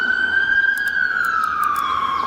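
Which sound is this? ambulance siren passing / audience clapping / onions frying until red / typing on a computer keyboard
ambulance siren passing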